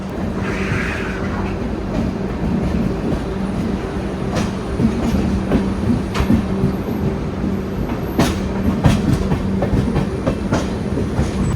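A Garib Rath Express made up of LHB coaches runs through a station without stopping, giving a continuous rolling rumble with rhythmic clickety-clack of wheels over rail joints and brief metallic squeals, close and steady throughout.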